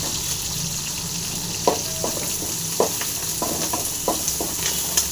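Chopped onions and curry leaves fry in hot oil for a kuppaimeni herbal soup, giving a steady sizzle broken by several sharp clicks of a spoon stirring against the pan.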